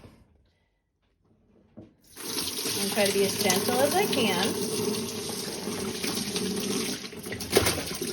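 Water is poured into a basin for wet blocking a knitted sweater, a continuous splashing, gurgling fill after a quiet start, while a person talks softly over it.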